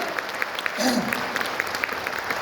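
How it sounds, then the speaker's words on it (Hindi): Applause marks a bronze achievement at a gathering, with scattered, sparse claps continuing while a voice briefly calls out over them. "तो मेरा ख्याल से ब्रॉन्ज के लिए फिर से जोरदार तालियां"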